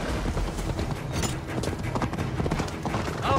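Horse hooves from Assassin's Creed Valhalla clip-clop in a steady, moderately loud rhythm under ambient game noise.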